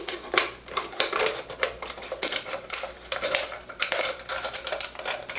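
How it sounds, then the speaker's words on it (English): Scissors cut through the bottom of a plastic bottle for a bubble snake craft, giving a run of crackling, crunchy snips and plastic rattles close by, with no voices. "and then I'm just going to cut off the bottom."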